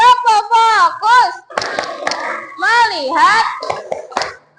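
Children in a primary classroom chant together in sing-song unison, broken by sharp bursts of rhythmic hand clapping in a class clapping game, the claps landing in quick short groups between the chanted lines.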